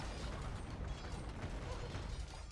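Scorpions firing double bolts in an Age of Empires II match, heard as a dense clattering, ratcheting mechanical din of repeated launches mixed with battle noise.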